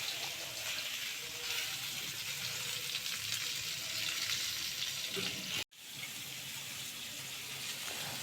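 Eggplant slices sizzle steadily in hot oil, a continuous close crackling hiss that cuts out for an instant before resuming.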